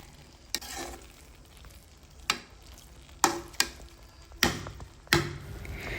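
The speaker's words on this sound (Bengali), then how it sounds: "এভাবেই নেড়েচেড়ে ঢেকে দিয়ে আরও বেশ কিছুক্ষণ সময় নিয়ে আমাদের বিরিয়ানিটা রান্না করে নিতে হবে" Chicken biryani is stirred in a pot: a low background sizzle with about six sharp scraping knocks of a spoon against the metal at irregular intervals, close and without speech.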